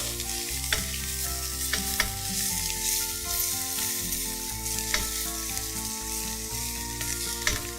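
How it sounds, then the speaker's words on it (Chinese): Dried shiitake mushrooms, soaked and cut into strips, go into a wok with egg and are stir-fried, with steady loud sizzling and repeated scraping clacks of the spatula against the wok, no voices. "我们现在蛋香味已经出来了，我们加入香菇丝。"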